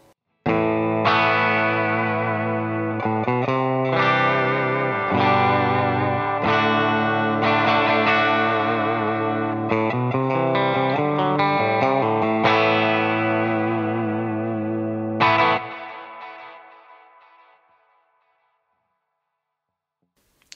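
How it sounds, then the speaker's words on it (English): Clean electric guitar chords and notes played through a Hotone Ampero II Stage Fender amp model with delay, reverb and compression, steady and full, then ringing out into a long fading tail before silence. "So a nice basic clean sound with just some delay, reverb, and compression on there."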